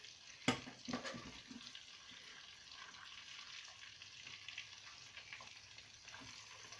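Tilapia frying in a pan gives off a steady, soft sizzle that runs throughout, opened by a sharp clank near the start, with a few light scrapes and knocks of a spoon.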